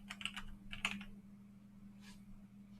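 Typing on a computer keyboard: a few quick, close clicky keystrokes in two short bursts, then a lone tap after a pause, over a faint steady electrical hum, fairly quiet, no talking.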